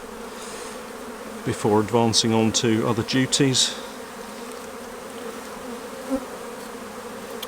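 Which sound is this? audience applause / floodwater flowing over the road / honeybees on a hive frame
honeybees on a hive frame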